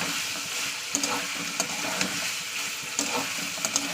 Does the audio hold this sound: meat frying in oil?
yes